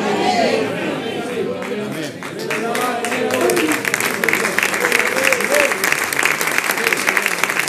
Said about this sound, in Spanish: Se ve que el aplauso no es espontáneo.